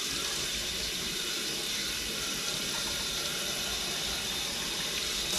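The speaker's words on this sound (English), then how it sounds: "I'm going to use warm water, and actually first I'm going to go ahead and fill the inside up real quick" Warm water runs steadily from a tap into a rusty can, a constant loud rushing splash that continues without a break throughout.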